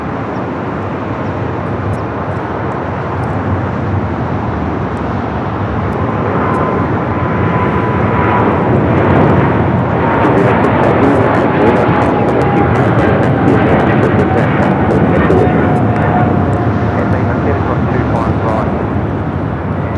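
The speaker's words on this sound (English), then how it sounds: "Also just at Air New Zealand, the flight coming from Auckland, just arriving here on the south side" An Air New Zealand flight from Auckland arrives on the south side of LAX: a loud, steady jet roar with a slowly falling engine whine, heard under ongoing talk.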